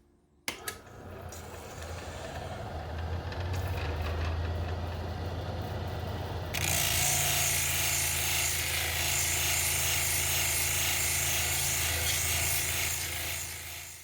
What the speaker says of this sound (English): I'm going to keep running the stone on this wheel to see what it produces